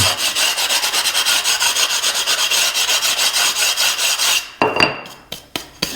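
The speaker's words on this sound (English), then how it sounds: "where's my sanding stone here?" Steady, rhythmic rasping of a sanding stone scraping a bathroom tile edge for several seconds, then a few short scrapes and taps before it stops.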